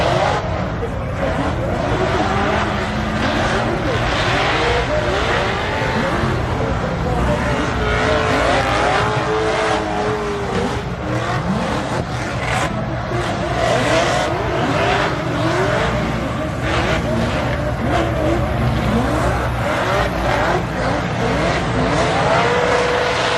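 Race cars at LS Fest East roar through an elimination run in a steady, loud, continuous wall of engine noise that lasts throughout, with no pauses.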